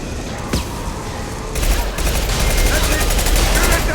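Gunfire in the video game Mass Effect 2, a sharp shot early on, then loud sustained automatic fire hammering for the last couple of seconds, with voices calling out over the din.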